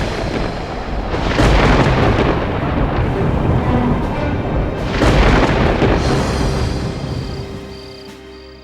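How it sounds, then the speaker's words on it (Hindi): Thunder rolls in as a storm approaches, two long, deep rumbling swells that build and fade, loud and close, with no voices. "तूफान आता दिख रहा है।"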